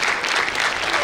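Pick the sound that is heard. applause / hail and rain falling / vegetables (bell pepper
applause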